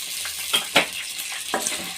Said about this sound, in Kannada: ಬಟಾಣಿನೂ ಅಷ್ಟೇ ಫ್ರೈ ಆಗಬೇಕು ಸ್ವಲ್ಪ ಹಸಿ ಸ್ಮೆಲ್ಲು ಹೋಗಬೇಕು